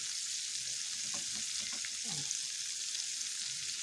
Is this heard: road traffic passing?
no